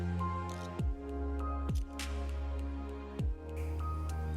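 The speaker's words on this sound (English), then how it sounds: "We were walking through crystal clear water." Footsteps wading through a shallow, clear forest stream, three or four distinct splashing steps at a slow walking pace, close and fairly quiet over soft ambient water.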